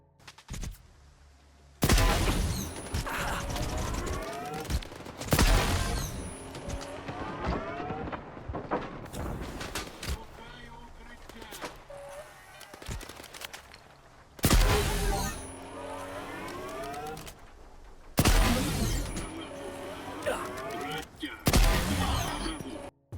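Bursts of rapid gunfire and explosive blasts in S.T.A.L.K.E.R. 2, loud and repeated in several intense volleys with brief lulls between them.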